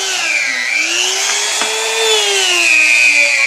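Power buffer polishing an interior car component with white compound, a steady loud motorized whir with a gently wavering pitch throughout, no talking.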